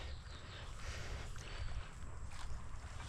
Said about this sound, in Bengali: ওই যে নৌকা যাচ্ছে